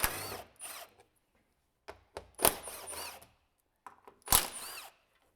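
A power tool backs out 12mm bolts from the plastic front skid plate of a 200 Series Land Cruiser, in several short whirring bursts separated by silent pauses, close and moderately loud.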